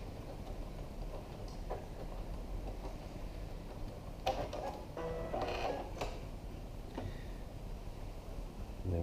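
A sewing machine back stitches along elastic fabric on a Cricut Maker dust cover, giving a steady close mechanical whir with short ticking bursts of needle action in the middle.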